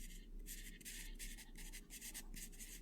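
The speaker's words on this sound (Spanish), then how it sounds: "poner el sonido de lápiz a la hora que está el efecto de mano alzada" A pencil writing on paper, heard as quiet, close scratchy strokes in short repeated bursts over a low steady hum.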